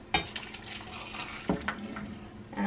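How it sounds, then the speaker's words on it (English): Freshly boiled water poured from a kettle for herbal tea, a soft splashing liquid stream with a few clinks and bumps, close and fairly quiet. "my water's boiling, so I'm going to turn it off and pour it"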